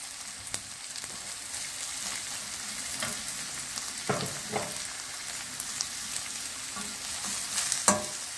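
Vegetables sauté in a pan over onions already softened with frozen sweet pepper: a steady close sizzle and crackle with a few clinks and stirring scrapes, no voices.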